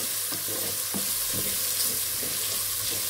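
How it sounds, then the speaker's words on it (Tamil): Tomatoes with a pinch of salt sautéing in oil for mutton biryani, giving a constant loud sizzle with a few soft scraping stirs underneath. "தக்காளி சீக்கிரமாக வதங்கிறதுக்காக ஒரு பிஞ்ச் உப்பு சேர்த்து தக்காளியை நல்லா வதக்கி விட்டுக்கலாம்."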